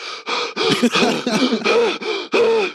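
A voice imitates rapid, breathy panting in quick gasping bursts, close and fairly loud.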